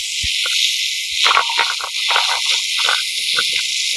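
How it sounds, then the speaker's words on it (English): A garden hose sprays hard into a dirty bird bath, a loud steady hiss of water dominating throughout, with faint splashes and spatter mixed underneath. "I just bring my hose and hose out all the muck, give it a good spray."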